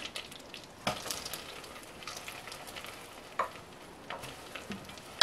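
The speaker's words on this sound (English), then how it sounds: "We're going to continuously stir it so it all melts." Butter and light brown sugar melting in a pan for toffee, a soft continuous sizzle with occasional sharp scrapes and taps of a stirring utensil, quiet and close, no voices.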